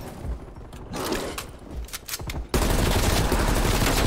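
Gunfire from Call of Duty: Black Ops Cold War zombies mode, a loud stream of rapid shots and bursts in the first half, then a sudden jump into a dense, continuous roar of shooting.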